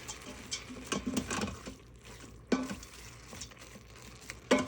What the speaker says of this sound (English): So now I'm going to add the dal, give it a mix.